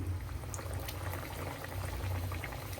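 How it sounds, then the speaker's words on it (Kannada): A puri frying in hot oil on medium flame for sweet badam puri, giving a steady, close bubbling sizzle throughout with no talk. "ಎಣ್ಣೆ ಬಿಸಿ ಇಟ್ಟಿದ್ದೀನಿ ಎಣ್ಣೆ ಬಿಸಿ ಆಗಬೇಕು ಈಗ ಒಂದು ಪೂರಿ ಹಾಕ್ತಾ ಇದ್ದೀನಿ"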